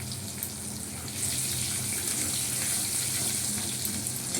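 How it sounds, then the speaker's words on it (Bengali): Cumin, bay leaf and chili crackling in hot oil for a tempering, a soft, continuous close sizzle that swells slightly after the first second, with no talk. "জিরে, তেজপাতা আর লঙ্কা ফোড়ন দিয়ে দিলাম।"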